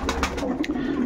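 Pigeons in a breeding loft coo in low, soft repeated calls, with brief higher flutters and wing noise; close and steady throughout.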